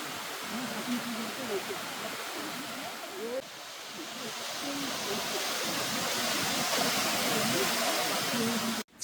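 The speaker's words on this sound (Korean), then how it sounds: "탐방로 옆으로 이렇게 시원한 계곡이 흐르고 있습니다" Steady rushing water from a mountain stream flowing beside a hiking trail, a continuous broadband wash that holds level and swells slightly louder toward the end, with no talk over it.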